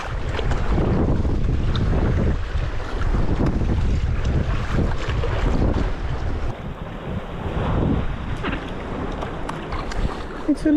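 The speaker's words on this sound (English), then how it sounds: "It's a little bit more wind than was forecast." Strong wind buffets a boat at sea, a loud continuous rush and microphone roar with water slapping and waves beneath, steady throughout with no talk.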